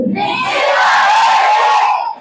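A church congregation at a midweek service shouting together to their neighbours: a short, loud burst of many raised voices yelling at once, swelling and then dropping off.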